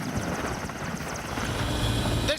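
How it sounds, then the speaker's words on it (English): Aging Soviet-era military helicopter in flight over a war zone, a loud, steady rotor drone with rhythmic blade chop and turbine whine throughout, no voices. "This Soviet-era helicopter is about 30 years old."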